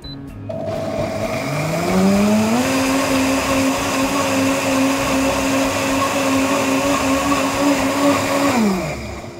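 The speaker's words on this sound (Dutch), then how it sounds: "Ik gebruik de blender omdat ik verse ananas heb." Blender whirring as it purees fresh pineapple for a piña colada, motor spinning up to a loud steady whine for several seconds, then winding down at the end.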